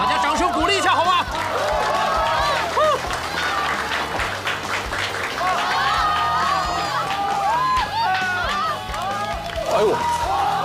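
Audience applause and cheering at a Muay Thai event introduction, dense clapping with shouts and excited crowd voices throughout, loud and sustained, with a musical tone running underneath.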